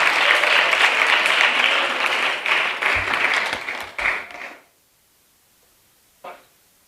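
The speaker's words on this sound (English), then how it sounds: "Let's invite them with a big round of applause" Audience clapping at a Bharatanatyam arangetram, full steady applause that thins out and stops after about four and a half seconds, followed by silence and one faint late clap.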